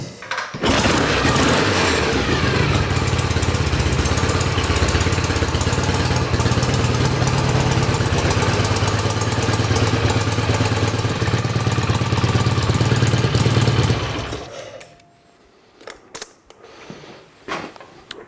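A classic motorcycle engine fires up from hot and runs loud and steady at close range for around fourteen seconds, then cuts off, leaving scattered faint clicks and handling noises.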